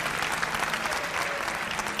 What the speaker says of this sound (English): Big round of applause for Mr. George Noory, please.